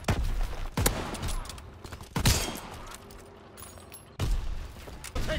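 Gunfire crackles in a Call of Duty match played on PS4, with several sharp shots and bursts spread across a few seconds, loud and close over a busy battle background.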